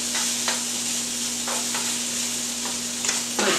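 Onions and garlic frying in olive oil, a close steady sizzle with a faint hum underneath and a few soft stirring scrapes.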